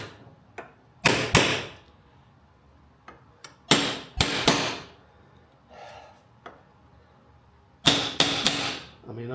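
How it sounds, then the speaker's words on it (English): A metal punch struck with a hammer while reassembling a Jaguar MKII car, sharp ringing metallic blows in short clusters of two or three, separated by quiet gaps. "I find it easier to use a punch on this"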